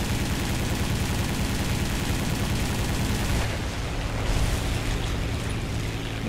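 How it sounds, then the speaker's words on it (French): Dense, continuous rapid gunfire from an anti-aircraft gun in the combat flight game War Thunder, loud and sustained with a heavy engine-like rumble beneath. "il y a un canon anti-aérien qui est là."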